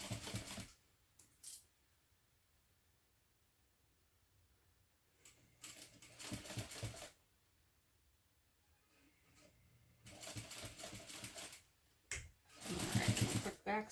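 Industrial sewing machine stitching a mini backpack, heard in several short bursts of rapid close mechanical stitching separated by quiet pauses, with a voice talking in between.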